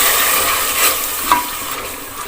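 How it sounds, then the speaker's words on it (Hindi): Masala fries in a pan in a home kitchen, a steady close sizzle broken by soft scraping as a spoon stirs it, with no talking. "इधर जो है वो मसाला पक रहा है"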